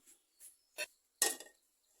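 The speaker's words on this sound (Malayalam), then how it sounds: "നമുക്കൊരു ഇൻഡാലിയത്തിൻ്റെ ചട്ടി അടുപ്പ് വെക്കാം" An aluminium pan is set on a stove with a few light metallic clinks and scrapes, ending in one sharper clatter, faint and close, with no voices.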